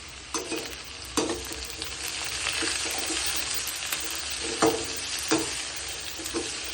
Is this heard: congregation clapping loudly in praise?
no